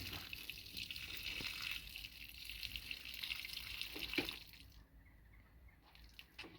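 Dirty water is poured out of a bucket holding freshly caught river crayfish, producing a steady splashing trickle that fades into quieter drips.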